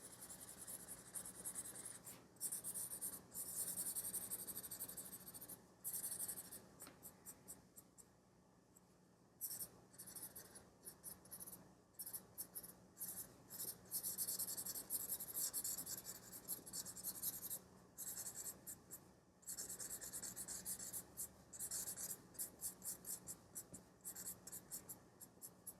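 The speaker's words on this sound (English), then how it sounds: "use the extra graphite that's on the stump to blend some areas" A graphite pencil drawing of eyes being blended with a blending stump gives a soft, continuous scratchy rubbing, close and quiet, with short strokes and brief pauses throughout.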